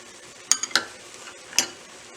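Chopped carrots tumble into a pot of cooking onions, a few sharp clinks and light knocks against the metal spaced apart over a faint background hiss.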